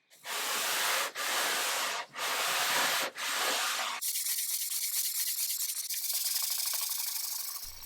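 Sanding a 1936 Art Deco wooden drinks cabinet: four loud rhythmic rasping strokes with short pauses, then a finer, quieter continuous scrubbing that carries on steadily, no voices.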